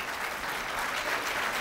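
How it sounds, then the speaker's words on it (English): Audience applause at a Dallas Tea Party gathering, a dense steady patter of many hands clapping at once, even and sustained, with no voices on top. "I'm not used to people clapping"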